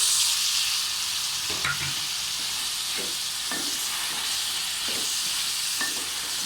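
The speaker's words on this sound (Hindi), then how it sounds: "और 5 मिनट तक इसको फ्राई करना है।" Eggplant frying in masala in a hot pan, a steady loud sizzle and hiss broken by occasional soft scraping stirs, with no talking.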